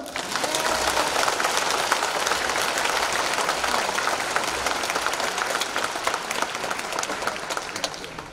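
A church congregation applauds at a pastor's inauguration thanksgiving service, a dense, steady roar of clapping from a large crowd that holds at full strength throughout, with no break.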